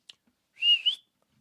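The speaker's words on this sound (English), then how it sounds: "Whistling is the correct answer." A single short whistled note, clear and fairly close, rising slightly then wavering, preceded by a tiny click in otherwise silent surroundings.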